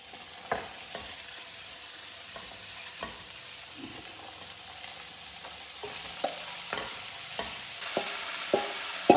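Chopped amaranth leaves fry with grated coconut in a pan for a Kerala-style thoran, giving a steady soft sizzle. Occasional spoon clicks and scrapes break through as the greens are stirred, and no one speaks.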